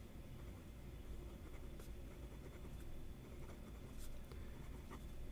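A fountain pen nib scratches faintly across paper in soft, intermittent strokes beneath a quiet hiss of room noise.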